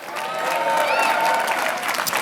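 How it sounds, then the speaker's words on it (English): A crowd at an Asian-Pacific Heritage reception hosted by New York City's mayor claps continuously, the applause swelling slightly in the middle and staying full and steady throughout. "so you can reward them with their applause"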